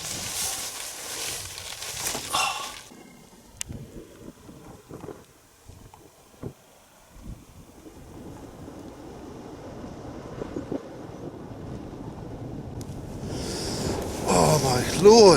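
Freezing wind gusts across open Dartmoor moorland in sub-zero conditions: a roaring blast buffets the microphone, eases into quieter rustling and intermittent thumps, then builds back to a strong, noisy gust at the end.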